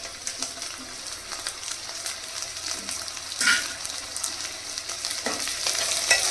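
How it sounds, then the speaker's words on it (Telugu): Prawns and onions sizzling and frying together in a pan, a steady crackling hiss with occasional stirring scrapes and louder spatters, close and continuous with no talking. "ఉల్లిపాయలు వేగాయి, ప్రాన్స్ వేసుకుందాం."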